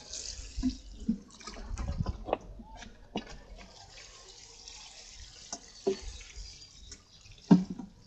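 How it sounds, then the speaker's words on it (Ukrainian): Water poured onto garden plants to soak the soil down to the roots in spring, irregular splashes and trickles with soft drips, fairly close and alone. "Треба добре-добре прям пролити, щоб вона прям мокра була аж до коріння."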